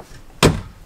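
A single solid thunk of a 2021 Keystone Passport 2950BH RV's exterior door shutting, close and sharp, with a brief rattling decay into quiet.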